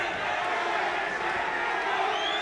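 A massive crowd roars and cheers continuously at a Thunderdome boxing match between Jeremy Van Diemen and Andrew Green, a dense, steady wall of arena noise with occasional whoops and shouts rising out of it.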